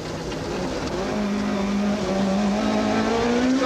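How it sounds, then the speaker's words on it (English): Inside a Nissan rally car on a rough forest stage, the engine drones steadily and climbs in pitch as it revs and accelerates, loud and continuous, with road rumble underneath. "We join the Nissan crew in car and get to witness just how rough the forest roads are."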